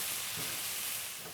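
A pan of Ethiopian bozena shiro base made with chickpea flour fries on the stove with a steady, even sizzle and hiss. It stays close and constant throughout, with no voices.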